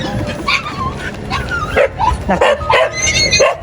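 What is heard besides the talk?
dog barking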